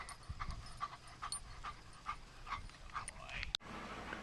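Several pet dogs pant after rounds of Chuck It fetch, a steady rhythmic huffing close by with a short sharp knock near the end.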